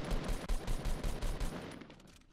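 Rapid AR rifle gunfire in the Fortnite video game, loud bursts of shots in quick succession that taper off near the end.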